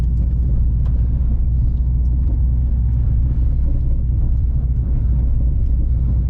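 Manual car engine rumbling steadily and close, held as the gears are changed and the throttle reapplied, a continuous low drone with no talk.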